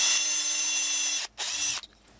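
A power drill whirs steadily while drilling out a die-cast Matchbox Ferrari Berlinetta toy car, running loud and close for over a second, stopping briefly, then whining again before cutting off into quiet.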